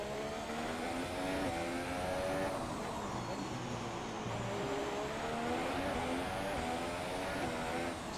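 Open-wheel race car engines in the F1 2017 racing game at the Singapore circuit, a steady loud high-pitched whine with shifting pitch as several cars run together, continuous without talk.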